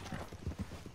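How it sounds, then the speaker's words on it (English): Horse hooves clip-clop at an easy walking pace in Red Dead Redemption 2, a quick series of soft, close thuds heard on their own, fairly quiet. "That's not my horse."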